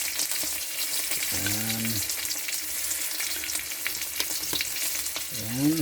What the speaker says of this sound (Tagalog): Yan po yung pritong isda natin ngayon.